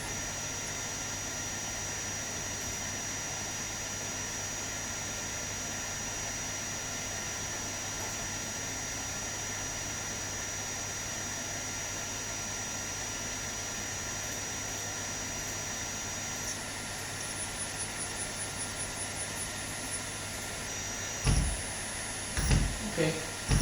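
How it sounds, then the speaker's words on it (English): A servo motor runs during parameter identification, producing a steady, even electrical whine and hum that continues unchanged for a long stretch and then ends with a few short knocks. "And now we can click this identify button to run the motor."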